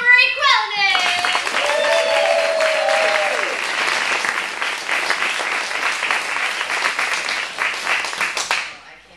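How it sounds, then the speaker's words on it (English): Loud applause and clapping from a comedy festival crowd in Austin, Texas, starting after a brief shout and holding steady for about eight seconds before cutting off. "I'd like a huge round of applause for Miss Lisa Marie Quillinan"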